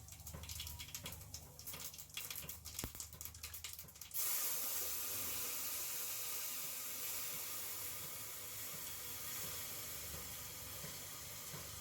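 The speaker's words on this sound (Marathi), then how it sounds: "माझं तेल गरम झालेलं आहे आता मी यामध्ये जिरं टाकून देणार आहे आणि लाल तिखट टाकून देणार आहे आणि त्यानंतर दही टाकून देणार आहे" Cumin, red chili powder and yogurt hit hot oil for a tadka, bursting into a loud, steady, close hiss of sizzling after a few seconds of quieter kitchen handling.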